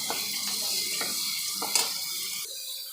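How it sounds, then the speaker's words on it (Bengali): Chopped onions with bay leaf and black cumin seeds sizzle in hot oil in a wok, a steady close crackling hiss stirred with occasional scraping taps. "পেঁয়াজ কুচি দিয়ে দিলাম।"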